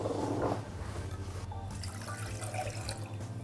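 Water pours steadily into a pan over sugar, a continuous close splashing trickle lasting a few seconds.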